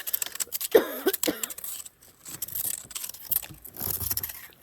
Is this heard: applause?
no